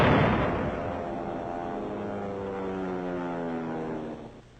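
Six-inch howitzers fire on the north wall of Mandalay during a siege, recorded on archival film: a heavy blast at the start rolls into a long, droning rumble that fades away near the end.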